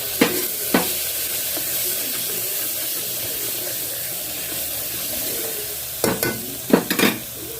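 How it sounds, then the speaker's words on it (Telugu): Masala curry with toor dal is stirred in a pan over steady sizzling, with sharp spoon scrapes and clicks against the pan near the start and in a cluster near the end. "ఇది కొంచెం పచ్చివాసన పోయేంత వరకు కలుపుకుందాము."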